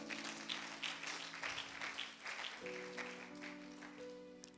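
A church congregation claps and cheers in praise of Jesus Christ, a soft, distant ripple of applause over sustained organ or keyboard chords, fading toward the end.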